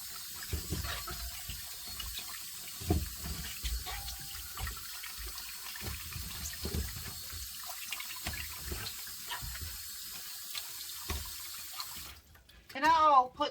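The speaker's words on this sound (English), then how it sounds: "I'll put water back in this bucket again just to keep them fresh and from drying out" Water runs steadily into a bucket for rinsing leeks, a continuous splashing pour heard up close that stops near the end, leaving a few sharp clatters.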